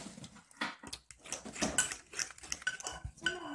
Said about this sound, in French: On va fouetter.